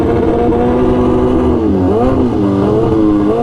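A brand new 2022 Suzuki Hayabusa's engine revving at a drag strip, a loud close buzzing drone whose pitch dips and rises briefly before holding steady.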